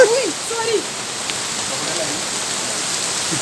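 Heavy rain pouring steadily in Lahore, a loud dense hiss of drops close by, with a brief voice at the start.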